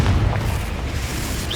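A Confringo fire spell detonates in the Hogwarts Legacy video game, a loud, deep boom with a rumbling low-end burst that quickly fades into a dull, roaring tail.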